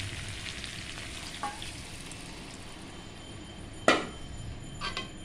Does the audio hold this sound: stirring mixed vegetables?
yes